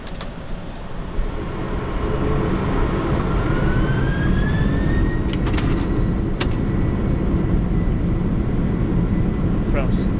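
Engines of a Boeing 747-400 spool up to takeoff thrust on an Atlanta runway, a loud, steady, dense roar with a rising whine heard from the cockpit, with brief clicks and a crew member speaking.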